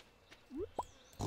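Pigs in the Stardew Valley farming game give a few short oinks and grunts, soft and spaced apart, with no other sound around them.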